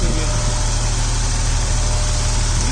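A BMW 760iL with the N73 V12 engine idles steadily right after its first start, a loud, close, even drone with a constant low throb and no voices over it.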